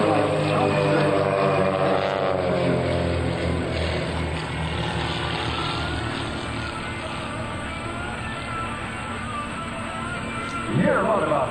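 An aerobatic airplane at an air show drones loudly and continuously while flying a maneuver, its tone shifting as it passes overhead, with a faint voice under the roar.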